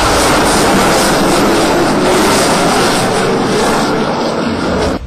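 A Saab Gripen single-engine Swedish fighter jet roars loudly overhead at an air show, a broad, sustained blast of jet noise that holds steady and begins to fade just before cutting off.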